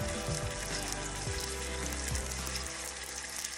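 Pork sizzles as it sautés in a hot pan, giving a steady, close hiss and crackle that holds at an even level throughout.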